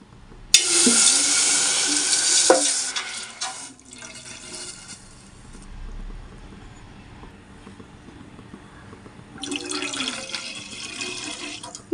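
Coconut milk poured into a thick-bottomed pan while cooking a village-style iftar dish: a steady, close liquid splash for about two seconds, then quiet, and a second shorter pour near the end.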